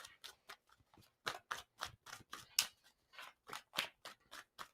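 A tarot card deck being shuffled, a run of crisp riffling and snapping bursts in an uneven rhythm, close and fairly quiet, with no talking.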